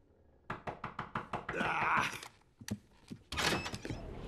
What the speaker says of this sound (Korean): 이게 뭐죠? 노크 소리? 하늘에서?